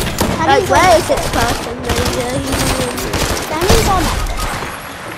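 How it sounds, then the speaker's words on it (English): Video game gunfire rattles in rapid continuous bursts, loud and close, while players talk and shout over it. "Where was that guy shooting?"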